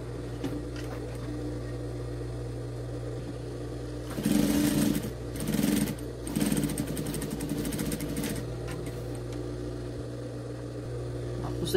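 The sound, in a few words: sewing machine stitching fabric all the way around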